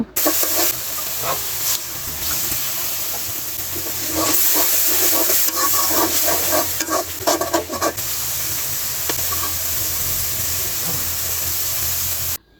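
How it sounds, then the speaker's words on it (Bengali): Chili, turmeric and coriander powder with salt frying for a village-style country chicken and potato curry, a continuous hiss and sizzle with bursts of stirring and scraping, close and loud, no talk. "সবগুলো গুঁড়ো মশলা দিয়ে মশলাটা ভালোভাবে কষিয়ে নিব"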